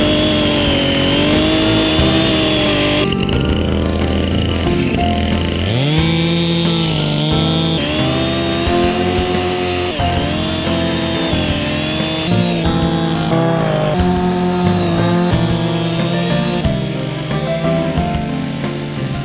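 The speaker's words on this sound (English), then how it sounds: "Hopefully the chainsaw runs okay." A chainsaw engine roars steadily and loudly while cutting ice, its pitch rising and dipping as the blade bites in, running continuously throughout.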